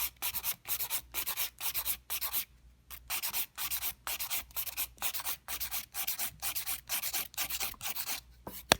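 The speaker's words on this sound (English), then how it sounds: "going to start our same filing that we do for every shape of your nail" A nail file rasps rhythmically against a sculpted gel stiletto nail, rapid back-and-forth strokes in steady bursts with brief pauses, close and clear, no talking.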